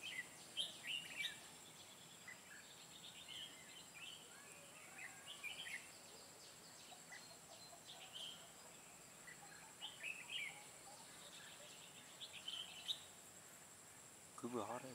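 White-cheeked red-whiskered bulbuls sing outdoors at a trapping site, giving repeated bright chirping phrases in scattered bursts, moderately near over a constant high insect drone, with faint voices in the background.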